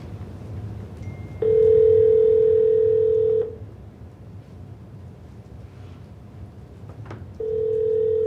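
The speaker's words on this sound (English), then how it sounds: "You want to try to give him a call on his phone?" An outgoing telephone call rings back with a steady electronic tone, two seconds long, then a pause and a second tone beginning, over faint background hiss.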